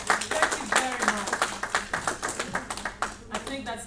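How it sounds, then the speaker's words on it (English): An audience claps after a motivational talk, with a steady stream of distinct hand claps that sound like a modest crowd, while voices talk over the clapping. "A round of applause."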